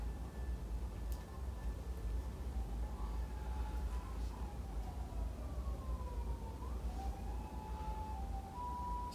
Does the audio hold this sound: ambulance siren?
yes